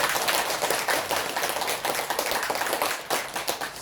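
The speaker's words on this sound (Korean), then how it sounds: "그분들을 위해서 박수 쳐주시기 바랍니다." An audience at a Buddhist dharma service claps in sustained, dense applause with many overlapping hand claps, loud and close, continuing without pause for several seconds.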